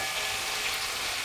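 Cauliflower florets lightly frying in a pan without salt or turmeric, a steady soft sizzle spread evenly across the moment, close and continuous with no talking.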